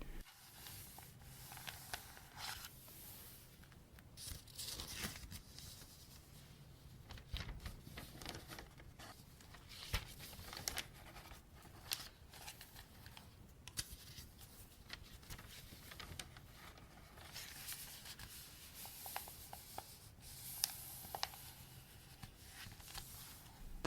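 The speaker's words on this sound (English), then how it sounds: "Here are some pages turning." Paper pages of a library book are turned one after another, giving soft rustles and crisp flicks at an uneven pace, close and quiet, with no talking.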